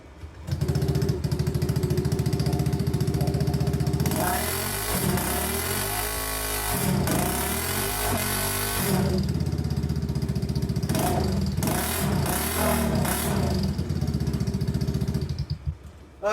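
A Honda ADV160 scooter engine with no muffler blats and crackles loudly close by, revving up hard several times between rough idling stretches.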